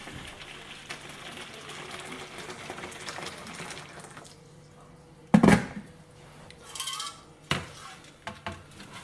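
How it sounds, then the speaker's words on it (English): Hot water pours from a kettle into a bowl, splashing, with a few clinks of metal tins against the bowl, amid quiet background noise and brief sharp knocks. "add some hot water out the kettle"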